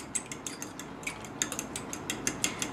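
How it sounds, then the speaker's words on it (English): A whisk or fork beating two eggs in a bowl, quick rhythmic clinking taps against the bowl's side, close and fairly quiet, continuing steadily without talk. "And I'm going to whisk this quite good."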